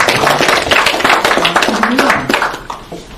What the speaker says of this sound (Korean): 오늘 수고하신 강사님께 박수 한번 부탁드립니다.